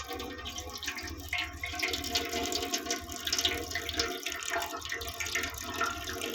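Water is poured over cocopeat during a sand test, a soft continuous splashing and trickling close by, faint and steady with small irregular bursts.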